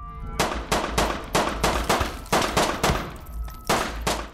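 Gunfire in the game Hidden Deep: a rapid, steady string of about a dozen sharp, loud shots at regular intervals, each with a metallic ring, close and unaccompanied by speech.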